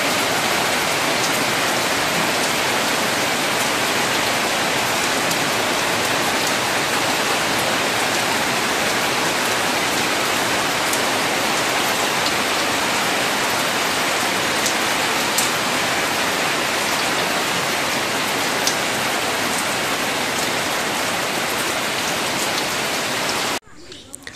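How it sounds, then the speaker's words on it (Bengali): Steady, heavy afternoon rain pours down in a dense, unbroken hiss with scattered drips, continuing at even strength until it cuts off at the very end. "এই বিকেলবেলা আবারও সেই বৃষ্টি"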